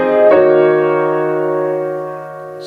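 A sustained piano chord from the bridge of a song is struck once and rings out. It holds steady and slowly fades over a couple of seconds, clear and close with no voice over it.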